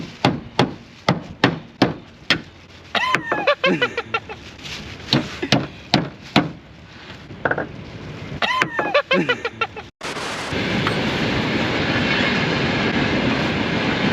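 A run of sharp, evenly spaced hammer blows drives nails through slate roofing on a garage, then gives way to a steady loud rushing noise.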